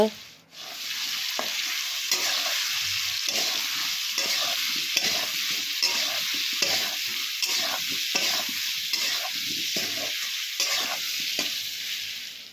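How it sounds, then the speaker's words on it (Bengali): Potatoes fry in hot oil in a pan with a constant, close sizzle, and repeated stirring scrapes of a utensil run through it at an uneven rhythm, with no voices. "সয়াবিনের জন্য আলু ভাজা বসানো হয়ে গেল"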